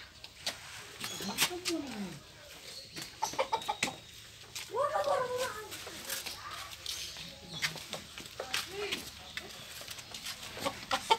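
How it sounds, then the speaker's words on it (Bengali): White quail birds on a farm give short chirps and peeps at scattered intervals, fairly close, while quiet human voices murmur in the background. "এটা কোয়েল বার্ড, হোয়াইট কোয়েল বার্ড"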